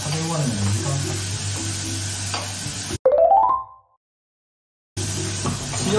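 Vegetables stir-fried over high heat in a home kitchen pan, a steady close sizzle for about three seconds, then a brief rising tone and sudden silence before the sizzling resumes.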